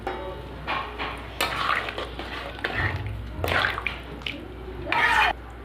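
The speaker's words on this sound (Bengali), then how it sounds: "এবার আমি জল দিয়ে দেবো।" Water poured into a pan of soybean curry, giving several short splashing, rushing bursts with pot clatter between them, loud and close.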